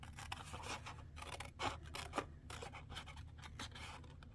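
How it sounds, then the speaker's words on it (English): Scissors snip through stamping cardstock rectangles along a score line, a series of soft, close crisp cuts and rustles in a quiet room. "I'm cutting right down the middle of the score line, or trying as best as I can."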